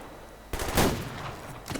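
A single gunshot fires in the video game Survarium, a sharp loud blast with a short ringing tail, followed by a faint second crack near the end.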